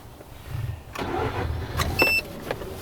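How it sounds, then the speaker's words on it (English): A Mazda RX-8 engine cranks and catches, then settles into a close idle, with a short electronic chime sounding partway through. "let's start the car"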